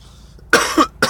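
A dog named Ranger with kennel cough and a runny nose gives a few harsh hacking coughs in quick succession, close and loud after a quiet moment.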